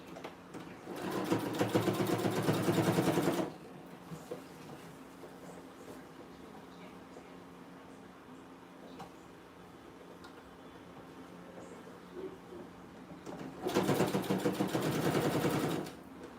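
A sewing machine stitches fabric for dog clothes in two loud, steady bursts of rapid buzzing, each about two to three seconds long, separated by a long quiet pause.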